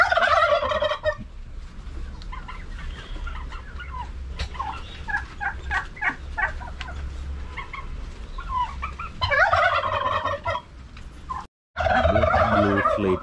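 Several turkeys of different colour varieties on a small farm gobble in repeated loud bursts, with clucking fowl between the calls and a constant low background hum.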